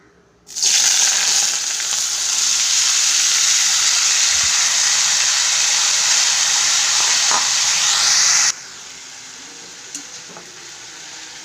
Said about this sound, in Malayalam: ഇതിൽ ഒരു ടേബിൾ സ്പൂൺ എണ്ണയൊഴിച്ച് നല്ലതുപോലെ ചൂട് വന്നിട്ടുണ്ട് അഞ്ഞൂറ് ഗ്രാം കിഴങ്ങ് ചെറുതായി നുറുക്കിയത് ഇതിലേക്ക് ഇടുന്നു